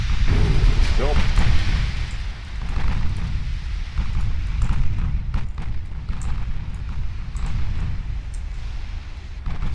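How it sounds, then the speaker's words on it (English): A torpedo strikes a warship in Ultimate Admiral Dreadnoughts, a heavy booming impact amid rumbling naval battle noise and scattered gunfire, with someone talking over it. "I just steered into a torpedo"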